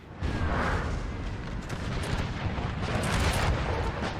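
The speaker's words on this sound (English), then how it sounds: "You're seeing the artillery focusing Murat." Artillery fire in the video game Napoleon: Total War: a continuous low rumbling roar of cannon fire and battle noise, steady and distant-sounding, with no talk.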